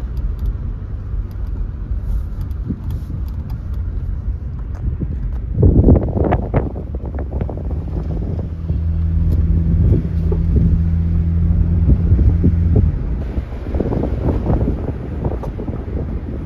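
A 2000 Toyota Avalon XLS with high mileage driving along, giving a steady low road and engine rumble mixed with wind noise, several louder bumps midway and a sustained hum through the middle stretch, with no talking.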